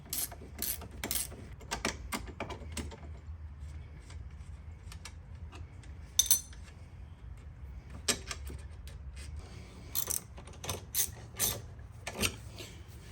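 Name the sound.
undoing the bolt on a CFMOTO rear control arm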